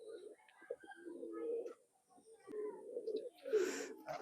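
A Khulna Chot pigeon coos close by in quiet surroundings, giving a run of low, throaty, wavering coos broken by short pauses, with a slightly louder, breathier call near the end.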